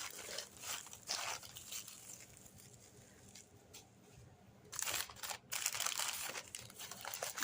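Packing paper crinkles and rustles as a parcel packed with bubble wrap, stuffed paper and cardboard is unboxed, in irregular close bursts with quieter gaps between them.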